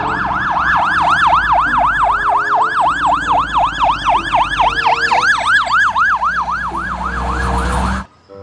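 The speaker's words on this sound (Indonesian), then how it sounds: "ada mobil pemadam kebakaran panjang" A loud, fast-warbling electronic siren like a toy fire truck's, cycling rapidly and steadily for several seconds before cutting off abruptly.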